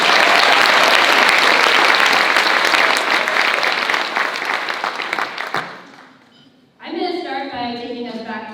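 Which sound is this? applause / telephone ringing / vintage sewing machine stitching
applause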